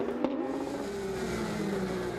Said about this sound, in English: Engine still running.